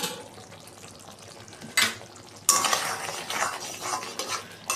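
Fish curry with potatoes being stirred in a pot, with close scraping and clinking of a spoon against the pot and a soft bubbling simmer underneath, growing busier in the second half.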